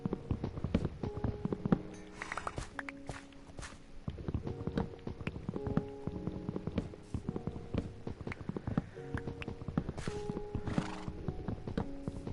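Minecraft horses wander nearby, their hooves clopping in steady irregular bursts, interrupted by a few whinnies and neighs over a quiet game backdrop, with no voices.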